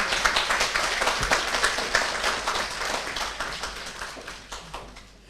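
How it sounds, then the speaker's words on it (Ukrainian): Audience applause at a medical workers' award ceremony in the Zmiiv community, with dense clapping sustained throughout and a few sharper individual claps standing out, slowly thinning toward the end. "Ще раз ваші оплески"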